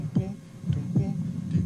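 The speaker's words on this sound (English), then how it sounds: "You've got a good heartbeat going there" Heartbeat from a children's TV puppet scene, heard as soft low thumps roughly every 0.8 seconds, steady and close, with no talk over them.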